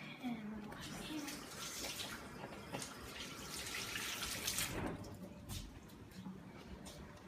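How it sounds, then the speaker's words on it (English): Hands being washed under a running kitchen tap while cooking shrimp Alfredo, a faint steady splashing hiss with brief louder gushes, a voice talking quietly over it. "And I'm gonna wash my hands."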